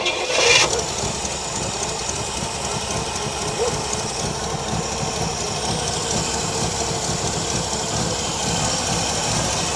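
A 1965 Chevrolet El Camino engine with an unadjusted choke cranks and catches, then settles into a steady, rough idle that runs close and loud throughout.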